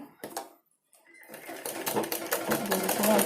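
An electric sewing machine stitches the waistband of a blouse, first in a short burst, then a brief pause, then a steady, loud, continuous whirring run of stitching.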